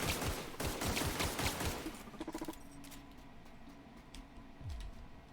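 Gunfire in The Outer Worlds, a burst of rapid shots at the start, then a mechanical clatter and scattered quieter game sounds.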